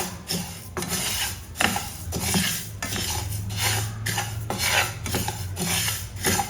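Unpolished sesame seeds dry-roasting in a pan over low heat for tilgul ladoos, with a steady rasping, rustling scrape as a spoon stirs them, broken by repeated louder metallic scrapes and knocks against the pan.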